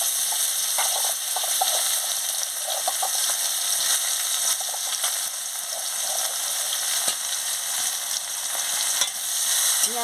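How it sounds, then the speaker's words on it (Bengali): Chopped onion and black cumin seeds sizzle steadily in hot oil, with occasional stirring scrapes in the pan, a continuous close frying hiss throughout. "পেঁয়াজটা ভালো করে ভেজে নিচ্ছি।"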